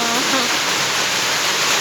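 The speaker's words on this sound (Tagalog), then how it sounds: "pakita ko sa inyo yung ulan" Steady rain pours down outdoors in the Philippines, a dense, even wash of hiss that stays loud and unbroken throughout, with no voices over it.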